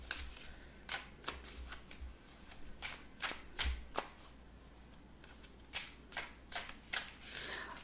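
Tarot cards shuffled by hand in quick bursts of crisp riffling and slaps, separated by short pauses, close and fairly quiet.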